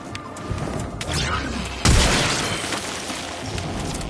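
A loud explosion erupts in the Warframe video game, a sudden deep boom cutting through a busy mix of rumble and crackle, then a long rolling decay.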